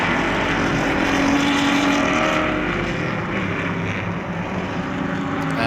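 Production and GT race cars up to 5 litres, including an all-red Ferrari, race at the 2019 Sonoma Speed Festival, their engines a loud, sustained roar that swells and then eases slightly as they pass.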